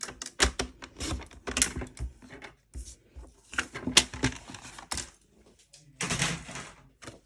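White cardstock being cut for card making, a run of crisp, sharp cutting and clicking strokes in irregular bursts with short pauses between, close by and fairly quiet.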